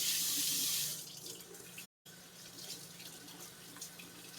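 Tap water runs into a sink to rinse something off, a loud hiss for about a second before dropping to a quieter trickle, with a brief cut partway through.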